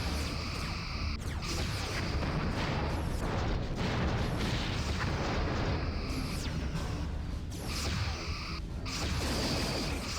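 Aft quantum torpedoes firing from a starship in a Star Trek video game, a dense run of booming whooshes and crashing bursts over a steady loud rumble, without talk.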